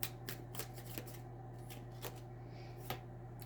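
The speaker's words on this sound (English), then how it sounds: "I'm going to shuffle more, but I don't think I need to" Tarot cards are shuffled in short riffling bursts, close and soft, repeating at irregular intervals over a low steady hum.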